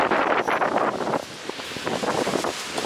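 Strong squally wind buffets the camera microphone beside a loaded truck, producing loud, roaring rumbles and irregular gusts that surge and fade across the whole stretch.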